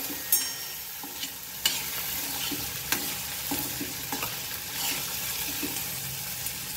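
Capsicum sizzles in hot oil in an Indian kadhai while a spoon stirs it for tadka masala Maggi, a steady frying hiss broken by several sharp scraping clicks, close and fairly quiet, with no voices.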